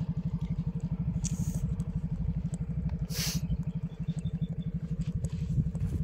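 Motorcycle climbing a mountain road, its engine giving a steady low rhythmic chugging throughout, with a couple of brief hissy bursts of wind or passing noise.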